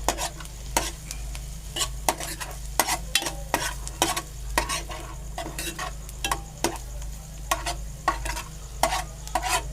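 Onions fry in a pan with a little ground masala paste, giving a soft continuous sizzle under a brisk, irregular series of sharp spoon clicks and scrapes against the metal.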